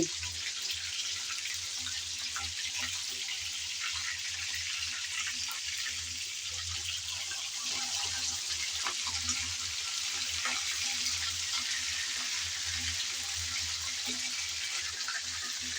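Small young carp fish fry in hot oil in a pan, giving a steady, soft crackling sizzle with faint pops that runs unchanged throughout, with no talking.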